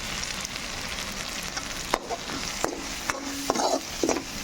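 Chana dal and potato curry with turmeric stirred and frying in a pan, a steady loud sizzle broken by several spoon scrapes and clinks against the pan.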